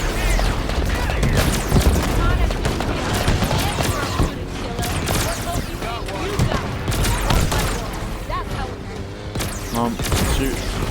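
Dense gunfire in Halo Infinite fills a loud, chaotic battle, with continuous rattling shots, explosions and crashes layered with game sounds and shouted voices.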